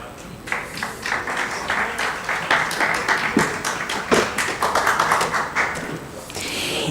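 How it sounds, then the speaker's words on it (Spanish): A crowd applauds steadily at a panel event on green hydrogen in Panama, many hands clapping together in a dense, even wash of claps that carries on throughout. "Un aplauso, por favor."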